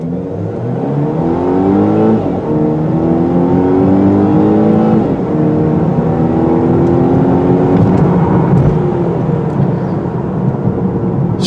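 A 2017 Volvo S90 T6 with a small four-cylinder engine accelerates hard, its loud engine note climbing through repeated gear shifts over steady road and wind roar, heard alone without talk.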